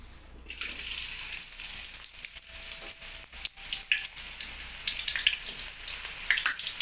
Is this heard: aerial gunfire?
no